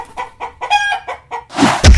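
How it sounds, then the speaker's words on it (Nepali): Chicken clucking close by in a quick series of short, sharp clucks, about seven in under two seconds, followed by a burst of rustling or flapping noise. "कुखुराले ठोकिरहेछ"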